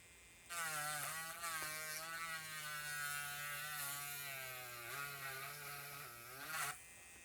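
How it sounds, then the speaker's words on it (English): A Dremel rotary tool grinds out a USB port hole in a PS Vita 2000 casing, a high, steady whine that starts abruptly, dips in pitch as it bites into the material, and cuts off near the end. "I'm just going to use, again, this Dremel here and just kind of eyeball it."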